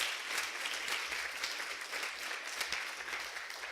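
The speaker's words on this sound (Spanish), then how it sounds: "Denle un fuerte aplauso a Dios si usted es un hijo de Dios verdadero" Sustained, even applause from a church congregation fills the room, many hands clapping together at a steady level without pause.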